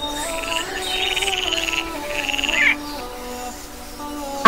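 A frog croaks in a rapid, pulsing trill, repeated twice in quick bursts, close and clear with faint background noise.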